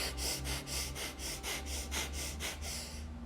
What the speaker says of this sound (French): Plus rapide, le plus rapidement possible. Inspirez, inspirez, inspirez, inspirez. Allez, grande respiration.